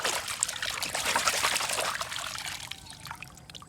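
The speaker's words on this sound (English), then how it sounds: "I have to put some water first." Water pours and trickles in a steady splashing stream for toy truck cleaning, bright and close at first, then thinning to a lighter dribble toward the end, with no talking.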